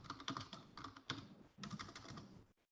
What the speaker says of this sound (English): I think someone's typing.